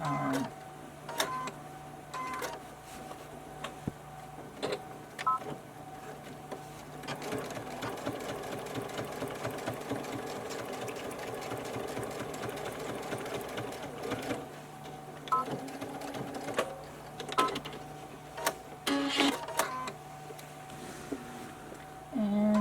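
A sewing machine stitches down layered pieces of a small fabric bag, running in bursts with short pauses and clicks between runs, close and fairly loud.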